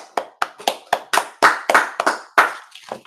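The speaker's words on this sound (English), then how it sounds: "Clap it up." Sharp hand claps, about a dozen in a quick irregular rhythm, close and crisp with short decays, from a small group clapping along at a street gathering, no talk over them.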